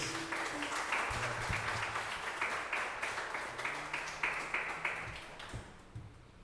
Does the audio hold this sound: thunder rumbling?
no